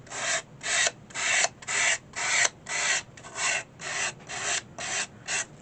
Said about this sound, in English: I will speed this up so you guys don't have to hear the sanding noise